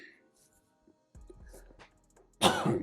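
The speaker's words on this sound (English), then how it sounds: "Excuse me. Bad cough. Tickle in my throat." A single loud, harsh cough bursts out near the end after some quiet fumbling and soft handling noises, close to the listener.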